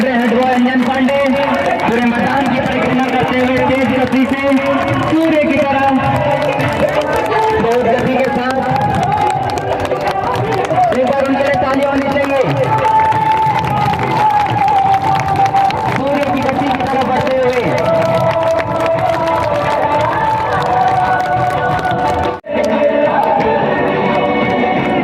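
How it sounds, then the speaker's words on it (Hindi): A large outdoor crowd at a school sports day torch run claps and cheers continuously, dense babble and applause with an announcer's voice over a loudspeaker throughout. "एक बार जोरदार तालियां।"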